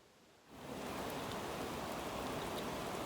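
Heavy rain with wind pours down at night while people sleep out on a farm field, a dense, steady hiss that swells up after a brief quiet start and holds loud and even to the end.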